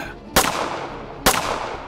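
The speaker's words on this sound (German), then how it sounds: "Zwei weitere Schüsse." Two sharp, loud gunshots ring out about a second apart, each a sudden broadband crack with a short decaying tail, set in a dark horror story narration.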